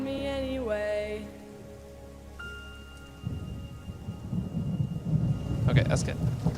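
Singing with sustained notes gives way to a thunderstorm sound effect: low rumbling thunder and dense rain hiss build up and continue to the end, growing louder with crackling peaks near the finish.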